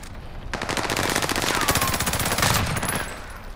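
Rapid automatic gunfire from the video game Call of Duty: Modern Warfare, a dense continuous burst of rattling shots lasting several seconds, loud and close with no talk.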